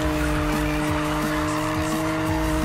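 A Toyota Supra drifting in Need for Speed 2015, tires squealing in long sliding whines over a loud, steady engine drone, close and continuous with no talk.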